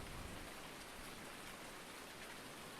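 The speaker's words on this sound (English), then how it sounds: "6:13 in the morning, and it's downpouring." Heavy rain pours down steadily in the video game Farming Simulator 19, a constant, even hiss of drops with no breaks, faint and uniform throughout.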